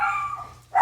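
A dog gives a short bark or yelp indoors, close and fairly loud, cutting off quickly before a second sound starts at the end.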